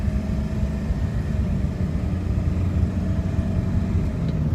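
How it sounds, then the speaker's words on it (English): A 2002 Ford F350 4x4 diesel Lariat truck drives along, its steady low engine rumble and road drone continuous and fairly loud throughout, with no talk. "Wow, good running truck."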